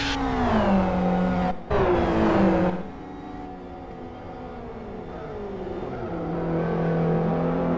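SuperGT race cars run on track during a main race at South City, one car being lapped, with a loud engine note rising and shifting as a car passes close, then settling into a steadier drone before building again.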